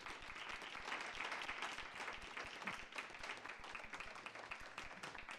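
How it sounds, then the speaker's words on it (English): Audience applause for guest speakers at an Earth Week event on food and social justice, a dense, steady clapping that fills the whole stretch at moderate loudness, with no one talking over it. "Let's give them a round of applause."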